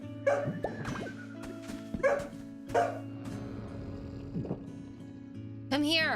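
Dogs barking in short irregular bursts with yips and whimpers, fairly close, over a steady background hum, with a voice briefly heard near the end.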